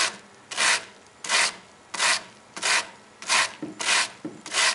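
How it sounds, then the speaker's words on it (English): A wood block wrapped in 150 grit fine sandpaper rubbed across a cello's wooden surface in a workshop; eight rhythmic, close, raspy strokes, each about half a second, with brief pauses between. "I've got a wood block with 150 grit fine sandpaper. I'm going to start sanding on this."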